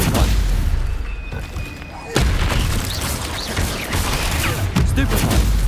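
Spell-cast impacts in the Hogwarts Legacy video game, a dense run of booming, crackling hits over a steady game-audio bed, with a sharp loud burst partway through and further blasts following.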